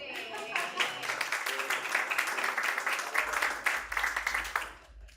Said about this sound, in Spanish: propongo un aplauso más fuerte para Pamela